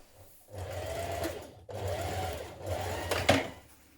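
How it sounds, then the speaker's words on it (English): A sewing machine stitches a 1 cm seam along the curved lower edge of trouser pocket bags, running in three short bursts with brief pauses between, fairly quiet and close. "we're going to stitch a 1 centimetre seam along this lower curved edge of the pocket bags"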